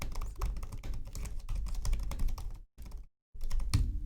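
Rapid typing on a computer keyboard, close and crisp, with quick irregular key clicks running continuously, broken by two brief silent pauses before the keystrokes resume.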